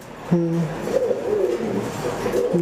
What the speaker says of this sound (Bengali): আমি একটা কবুতর আপনাদেরকে ধরে দেখাচ্ছি